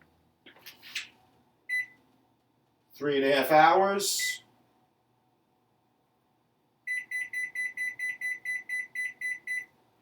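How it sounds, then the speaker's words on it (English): A slow cooker's timer beeps as it is set to high for a fajita recipe, a steady run of about ten evenly spaced electronic beeps following a few button chirps and a brief spoken remark. "So let me set the timer."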